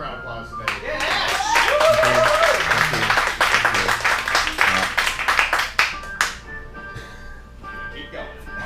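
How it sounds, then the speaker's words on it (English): A comedy show audience at Funhouse Lounge applauds a performer, with brisk crowd clapping and a voice over it that fade out toward the end, leaving a faint electronic tone. "Give him a round of applause today."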